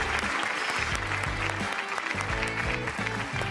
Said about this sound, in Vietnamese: chúng ta hãy dùng một tràng pháo tay để chào đón trọng tài cho trận đấu ngày hôm nay